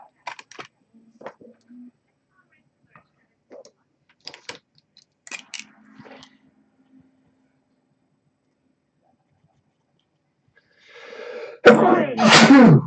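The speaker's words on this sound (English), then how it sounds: "Big sneeze." Soft scattered tapping and clicks, then a loud, close sneeze bursts out at the end.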